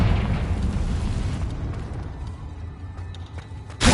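A Confringo fire spell in Hogwarts Legacy bursts with a loud, rumbling boom that decays over several seconds into a low roar, with another sharp blast hitting at the very end.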